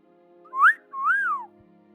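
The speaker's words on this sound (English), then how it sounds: "I can't do the whistle" A loud two-part whistle, a short rising blast then a longer swooping tone, stands alone in an otherwise quiet room, with no talking over it.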